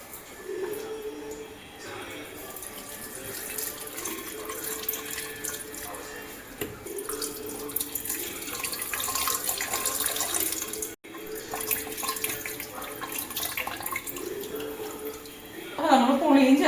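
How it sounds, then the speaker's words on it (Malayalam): Tamarind water pours into cooked toor and moong dal, a steady running gush that sounds much like a flowing tap, with a voice talking over it and a sharper splash near the end. "പുളിയാണ് ഒഴിക്കുന്നത്."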